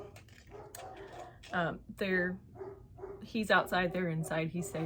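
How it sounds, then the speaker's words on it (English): A person talks while dogs bark intermittently downstairs at a painter, muffled and somewhat distant. "that's my dogs terrorizing the poor painter."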